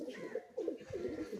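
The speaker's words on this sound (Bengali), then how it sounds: "একজোড়া আন্ধ্রা পায়রা দেখতে পাচ্ছেন" A pair of Andhra breed pigeons coo close by in soft, low, repeated rolling phrases, with brief pauses between the bursts.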